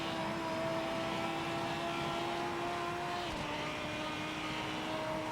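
A GT3 race car in the Project Motor Racing video game runs through a corner at Road America, its engine a sustained high drone whose pitch dips briefly mid-corner and then holds, with no talk over it.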